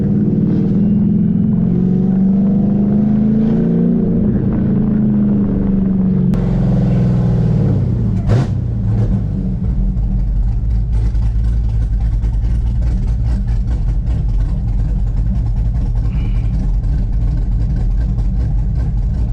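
Chevrolet Camaro ZL1 engine droning steadily and loud while driving, with a rising supercharger-style whine, a brief shift around the middle, then continued strong engine noise under the cabin.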